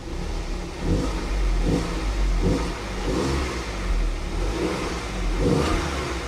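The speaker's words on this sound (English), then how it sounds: "Let's give it a little rev." Engine of a 2010 Audi Q5 SUV revving in a few rising and falling pulls over a steady idle, close and fairly loud, with no talking.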